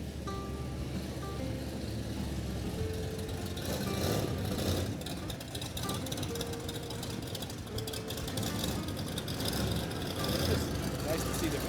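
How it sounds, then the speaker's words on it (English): A 1933 Willys car rumbles past at a Sunday afternoon car show, its engine noise building and fading under steady nearby chatter from people talking. "here comes a fun car that we're going to have a problem talking over."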